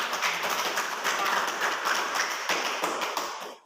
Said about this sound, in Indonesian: Ya, tepuk tangan untuk anak.